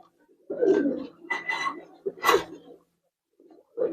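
Giribaz and racer pigeons in a loft coo in several loud, close, throaty bursts separated by short pauses.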